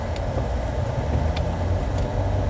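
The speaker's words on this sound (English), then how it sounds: "I'm driving to my job right now" A car on the road from inside, a steady low engine and tyre rumble with a few faint ticks, continuous and fairly loud.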